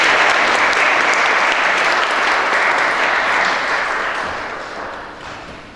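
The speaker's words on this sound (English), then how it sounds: "If you could all just give a round of applause to welcome Justice Colopin to his meeting" An audience at a Rivonia Trial 60th anniversary commemoration gives a warm round of applause, dense and close, fading out over the last couple of seconds.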